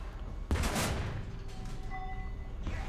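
Tank cannon fire in the War Thunder tank combat game: a single heavy, loud boom that rolls off into a sustained rumble, followed by faint mechanical tones, with no talking.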